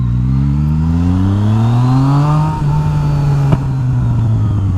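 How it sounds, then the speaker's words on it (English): A motorcycle engine revving up steadily, rising in pitch, then settling, with a single sharp exhaust pop near the end. "I want to see if it picks up these little pops from the exhaust."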